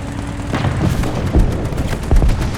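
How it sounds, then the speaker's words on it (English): Gunfire in War Thunder around a Sd.Kfz. 221 armoured car with an s.Pz.B.41 gun, a steady din of battle punctuated by a few heavy booming shots, one near the middle and one near the end. "They're still taking gunfire."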